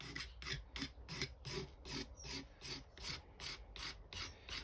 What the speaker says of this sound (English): it's good for scraping rough wood